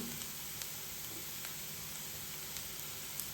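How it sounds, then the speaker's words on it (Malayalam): Curry leaves dropped into a pan of sautéed onions, with a steady, faint hiss of frying oil running unbroken under a few tiny crackles. "അപ്പോൾ ഉള്ളിയൊക്കെ നല്ല വഴന്ന് വന്നിട്ടുണ്ട് ഇതിലേക്ക് കുറച്ച് കറിവേപ്പില ഇട്ട് കൊടുക്കാം"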